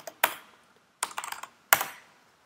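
A file name is typed on a computer keyboard in three short bursts of crisp, close keystrokes, separated by brief silent pauses.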